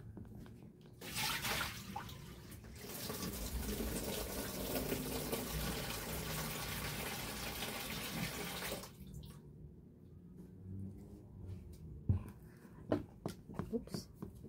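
Tap water gushes steadily into a basin for several seconds, then stops, followed by quiet drips and clinks, with a soft voice nearby.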